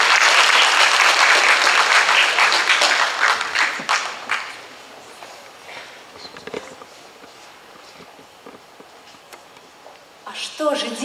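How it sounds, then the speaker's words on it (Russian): Festival-opening audience applause in a hall, loud and dense at first, thinning to scattered claps and footsteps, then a brief burst of clapping again near the end, with some talk mixed in. "Аплодисменты, друзья."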